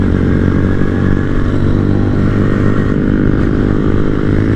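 A group of small-bore motorcycles riding single file on a mountain road, a loud close steady engine drone with rumbling exhaust and wind, no break in the sound.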